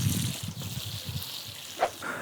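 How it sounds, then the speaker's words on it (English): Water trickles and splashes onto soil around a newly planted dragon fruit plant beside a trellis frame, a short close-up pour with uneven dribbling and a small splash near the end, no talking. "We'll just water this in now, give it a good drink"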